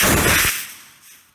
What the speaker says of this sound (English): today we launched a rocket go-kart